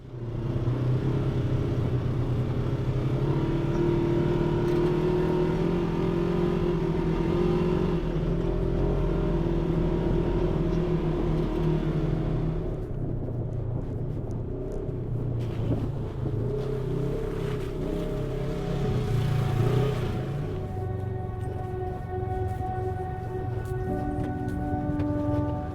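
An ATV drives fast over bumpy trails at Jericho Mountain State Park, New Hampshire, its engine droning and shifting pitch under heavy wind buffeting on the microphone, revving changes midway.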